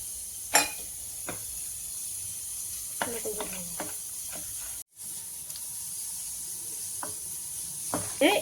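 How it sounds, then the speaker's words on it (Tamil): Soft, steady sizzling of dried turkey berries frying in a pan, with occasional light stirring clicks and scrapes; no voices. "சுண்டை வத்தல் எடுத்துருக்கோம்னா அதை போட்டு வறுத்துக்கலாம்"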